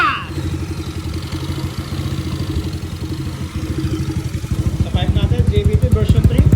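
Motorcycle engine idling close by, a steady rhythmic chugging that grows slightly louder and more pulsing toward the end, with a voice talking over it.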